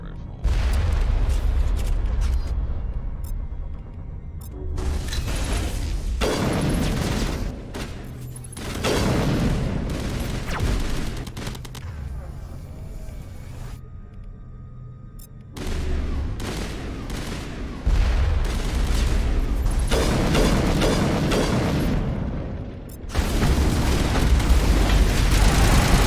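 Assault rifle gunfire in Mass Effect (Legendary Edition) during a fight against Geth on Noveria, sustained bursts with heavy booms and blasts filling most of the stretch, broken by a few short lulls.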